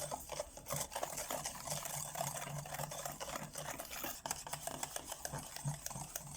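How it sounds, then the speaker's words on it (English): A spoon stirs sugar into strawberry puree so it dissolves, a soft, continuous scraping and swishing that stays quiet and close throughout. "I'm going to dissolve the sugar into the strawberry puree."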